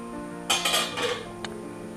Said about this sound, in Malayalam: നമുക്ക് മൂടിയെ തുറന്നു നോക്കാം.